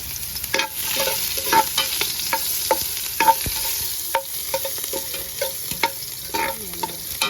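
Ginger frying in hot oil for Filipino tinola chicken soup in an outdoor hut, a bright, close sizzle with frequent stirring scrapes and clicks against the pan and no one talking.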